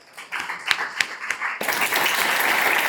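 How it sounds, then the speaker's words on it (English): Students in a college classroom clap for a classmate: a few separate claps start it, then the whole class joins in a dense, steady burst of applause, fairly close. "Everyone clap for her."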